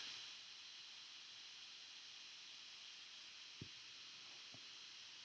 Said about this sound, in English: the fan in my laptop is going absolutely crazy right now